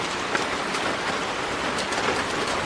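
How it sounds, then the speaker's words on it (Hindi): Heavy rain falls on village fields as a dense, steady hiss, loud and close, with a few stray drop spatters. No voices are heard. "कुछ दिनों बाद गांव में तेज बारिश हुई।"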